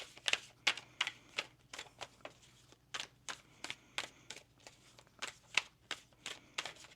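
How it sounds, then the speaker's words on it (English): Soft, crisp riffles and taps of tarot cards being shuffled repeat in quick bursts, quiet and close. "We're going to do one more shuffle here for you"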